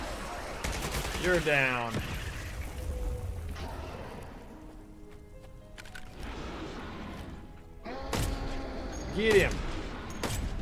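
Sniper rifle fire in the survival shooter video game Once Human, a few sharp loud cracks around the 1.5 and 9.5 second marks, with a player talking excitedly over the game sounds.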